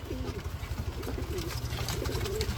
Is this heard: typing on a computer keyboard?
no